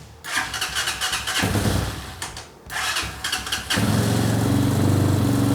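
A Hawk 250 motorcycle engine, rebuilt after a crash, cranks in two loud rhythmic bursts with a pause between, then catches and settles into a steady, rough idle close by.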